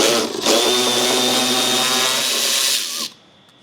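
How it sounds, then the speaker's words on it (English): A power tool, likely a drill or impact driver, spins out 10mm bolts holding the front scoop on a 2025+ Dodge Ram Cummins 6.7L diesel, one loud sustained whirring run of about 2.5 seconds, close up with no talk. "next we're going to remove these two 10mm bolts holding the front scoop on"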